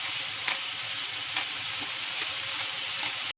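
Spinach sizzles steadily in a pan over medium heat, with a constant frying hiss and faint stirring clicks at a close distance, and no voices.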